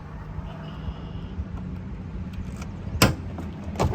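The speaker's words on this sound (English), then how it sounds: "Oh, trunk opens up easy. It's spring-loaded." Trunk lid on a 1978 Pontiac Firebird Trans Am releasing and swinging up on its springs, a sharp latch-like clunk near the end over a steady low rumble of nearby traffic or idling car.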